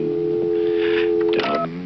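A telephone being dialed in a 1986 television movie, with steady tones followed by a quick run of short dialing beeps, heard close and clear.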